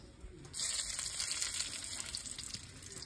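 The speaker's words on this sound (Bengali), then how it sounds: "ফোড়নে দেবো শুকনো লঙ্কা" Dried red chillies hitting hot oil as tempering for a Bengali-style Ritha fish curry, a bright continuous sizzle that jumps up loud at the start and holds steady without voices.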